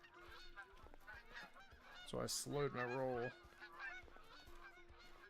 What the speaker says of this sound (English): Sounds like there's geese in the water down here.